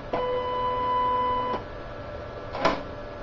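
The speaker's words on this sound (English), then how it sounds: "There, it's reloading the paper." A short mechanical whir from a Kodak 6850 photo printer reloading paper runs for about a second and a half, followed by a quick clunk as the mechanism shifts.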